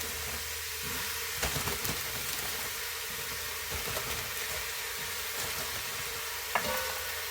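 Steak stew with vegetables cooking down in a pot, a soft continuous sizzle and hiss with a few faint scrapes and knocks of stirring, quiet and with no voices.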